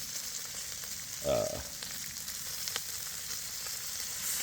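Corn smoked bacon frying in a pan for a Southern breakfast, giving a soft, steady sizzle and crackle at low level with a brief louder spatter near the start.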